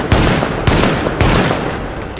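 Magnum pistol in The Division firing three heavy, evenly spaced shots roughly half a second apart, each a sharp loud crack over a constant layer of gameplay noise.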